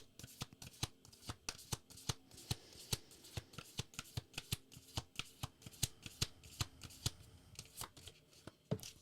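A Moonology oracle card deck is shuffled by hand in quick rhythmic riffles and slaps, close and crisp, with a steady run of sharp card flicks throughout and no voice.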